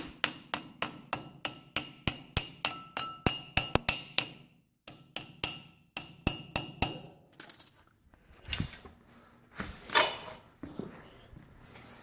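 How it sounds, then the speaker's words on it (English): A brick hammer strikes metal in a fast, regular series of sharp ringing blows, then pauses and continues with slower, irregular heavier hits, close by, during car suspension and brake work. "Let's grab the old brick hammer."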